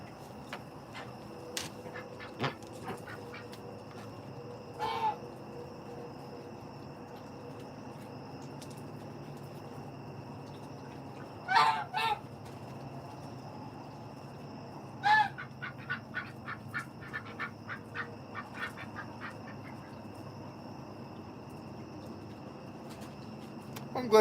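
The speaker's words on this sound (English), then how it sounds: "We've got geese, ducks, turkeys, and chickens." Geese honk on a farm among ducks, turkeys and chickens, in scattered clusters of loud nasal calls with quieter quacks and a rapid honking series near the end, over a low steady background hum.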